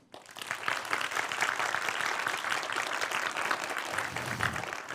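A live audience at a tech conference talk applauds on request, dense steady clapping that swells in after a quiet half-second and holds loud and even for the rest, with no talk over it.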